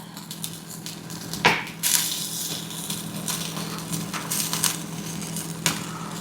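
Potatoes added to a pan while making salsa, a soft sizzle with occasional clinks and scraping bursts from the pan, heard close.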